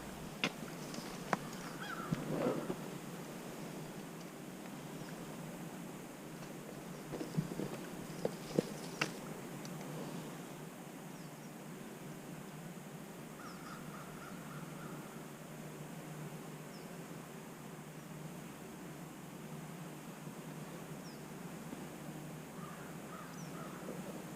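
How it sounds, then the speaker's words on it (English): Outdoor ambience with scattered bird calls, including a few harsh crow-like caws, fairly distant over a steady background hiss. "Lots of birds."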